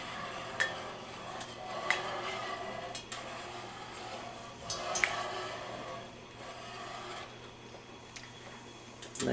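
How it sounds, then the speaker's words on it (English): A utensil scrapes crackly browned fond loose from a pan while making red eye gravy, with soft intermittent scratches and clicks over a faint sizzle. "making sure all of the good little crackly bits, the fond, are loose from the pan"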